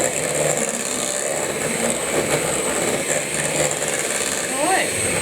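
An electric mixer whisks thick chocolate cupcake batter in a bowl, a steady buzzing motor whir with slight wavering as the blades work, loud and close, with brief voices mixed in.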